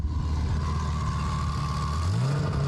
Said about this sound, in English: Just give it a couple of revs.